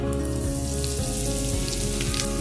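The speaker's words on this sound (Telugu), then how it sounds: "మూకుట్లో కొంచెం నూనె వేసుకొని ఆవాలు," Mustard seeds and asafoetida tempering in a little oil in a pan, a steady dense sizzle with faint popping crackles running throughout, close and continuous, with no talking.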